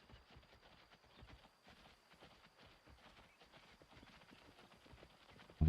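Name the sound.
wild hogs moving nearby in Way of the Hunter video game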